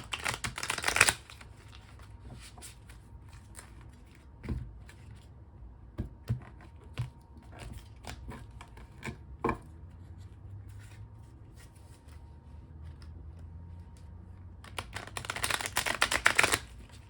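Close, fast riffling bursts of tarot cards being shuffled at the start and end, with scattered soft taps and rustles in a quiet room between.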